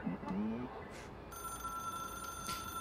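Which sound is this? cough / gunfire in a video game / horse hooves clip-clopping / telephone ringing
telephone ringing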